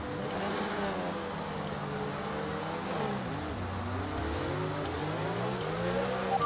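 Formula One race car engine in the F1 2019 video game at the Bahrain Grand Prix, a steady loud whining drone with pitch rising and falling through gear changes, continuous throughout with no talking.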